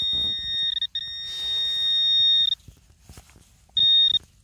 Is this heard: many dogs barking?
no